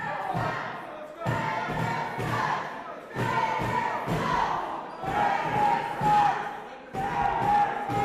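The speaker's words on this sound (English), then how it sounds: "Can you believe this crowd?" A crowd at a live wrestling show roars and chants in loud rhythmic waves. The bursts of cheering rise and fall every second or two.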